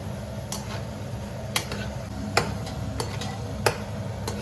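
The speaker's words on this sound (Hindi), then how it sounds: "सो गाइस, अब मखाने भून रहे हैं इसके अंदर। देसी घी में।" Makhana (fox nuts) roasting in desi cow ghee in a pan, a soft continuous sizzle broken by sharp, scattered clicks and taps as the nuts are stirred, close and moderately loud.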